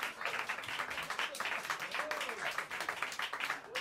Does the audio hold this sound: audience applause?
yes